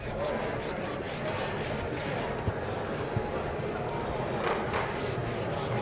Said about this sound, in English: the more I buff, I'm also beginning to get a polish here